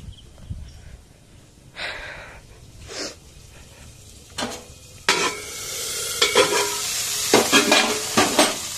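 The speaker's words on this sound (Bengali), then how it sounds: "তো এখানে পোস্তর জন্য ফোড়ন দিয়ে আলুটা দিয়েছি, আলুটা ভাজা ভাজা হয়ে গেলে তারপর ঝিঙেটা তুলে দেবো" Potatoes sizzling in a pan with tempering spices for jhinge aloo posto, irregular bursts of frying and stirring that grow louder and denser toward the end, close by, without speech.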